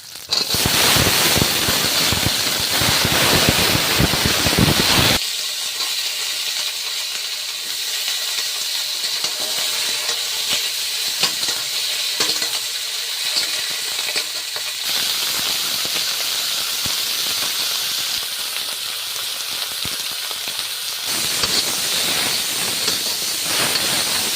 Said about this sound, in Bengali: তেলটা হয়ে গিয়েছে আর সবজিটা দিয়ে দিচ্ছি